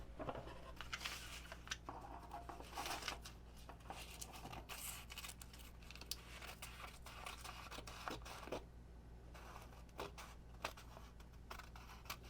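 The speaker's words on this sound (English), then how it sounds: "Just cutting up some fine sandpaper to go on this sanding block here." Fine sandpaper is cut into pieces for a sanding block, giving faint, quick, repeated crisp snips and scratchy rustles in a quiet room, with no talking.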